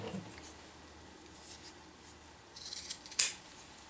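Scissors cut through a webbing strap, giving quiet, close snips and rubbing sounds that end in a sharp cutting crunch near the finish, against a faint, quiet room.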